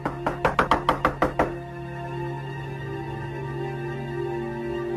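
Knocking on a door: a quick run of about eight sharp, loud knocks in the first second and a half, then a steady low hum carries on alone.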